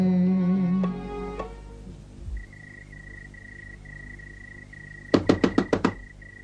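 Someone knocks on a wooden door with a quick burst of about six sharp, evenly spaced raps near the end. Before the knocks come a brief musical tone and a steady high electronic beep.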